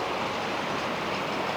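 A model train crawls slowly along a layout near a traction depot, giving a continuous, even rolling rumble with a faint clickety texture and no talking over it.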